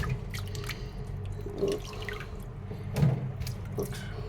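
Water drips and splashes at a kitchen sink while food is washed by hand, with scattered wet drops and small splashes over a low background hum.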